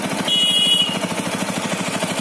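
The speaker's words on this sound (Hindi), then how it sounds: "जो एक हल्का सा चु चु चु चु चु चु एक नॉइज है ना वो है टैपिंग नॉइज" A TVS Apache RTR 200 4V BS6 motorcycle engine runs at idle with a light, rapid, evenly spaced ticking from the cylinder head, close and steady; a brief high whine joins the clatter for a moment.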